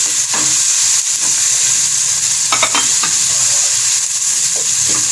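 Browned onions and chunks of goat liver for masala kaleji sizzle steadily in a hot pan, a loud continuous frying hiss broken by occasional scraping stirs of a spoon.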